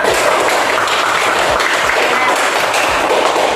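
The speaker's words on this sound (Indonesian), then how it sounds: "Tepuk tangan untuk kita semua." Primary school class applauding together, a dense, continuous patter of many small hands clapping close by at steady loudness, with no voices over it.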